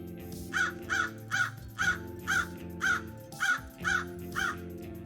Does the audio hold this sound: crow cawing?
yes